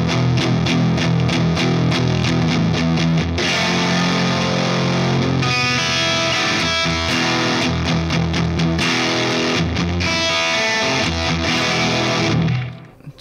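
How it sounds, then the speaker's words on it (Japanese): Heavily distorted electric guitar with a single-coil pickup, the distortion coming from the amp cranked near maximum gain; a dense, loud, boomy tone with strummed chords and sustained ringing notes for about thirteen seconds, ending in a quick fade. "アンプ側で歪みを足してみたいと思います。"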